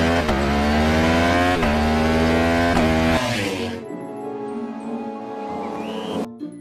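Loud, steady racing motorcycle engine hum filling the first three seconds, then dropping to a quieter idle-like rumble before a brief rise at the end.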